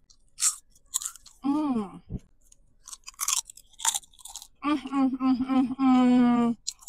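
Crunchy seaweed popiah snack being chewed close up, with crisp bites and crunches alternating with a person's voice making drawn-out sounds of enjoyment.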